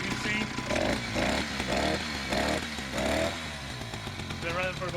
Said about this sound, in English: All right, bike's running